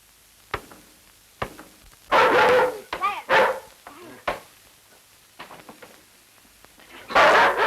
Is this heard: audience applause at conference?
no